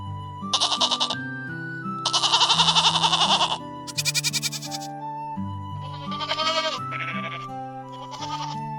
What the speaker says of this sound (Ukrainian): А ось коза. Вона каже ме.